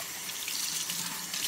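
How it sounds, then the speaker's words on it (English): Cold tap water runs steadily from a faucet to rinse a De'Longhi Alicia electric moka pot, a continuous close splashing rush with no voices. "And then I rinse that with cold water,"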